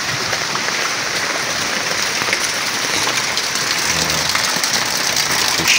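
Heavy rain pours steadily and loudly, a dense unbroken hiss of drops hitting surfaces close by, with no voices and a faint low rumble beneath.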